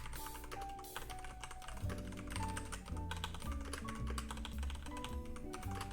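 Steady typing on a computer keyboard during a Python coding session, with dense rapid key clicks running throughout over constant background noise and no speech.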